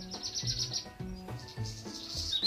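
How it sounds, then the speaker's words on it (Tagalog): Birds chirp and tweet in quick repeated bursts over a soft insect-like hum, steady and moderately near. "Kay sarap pakinggan ng mga huni ng ibon"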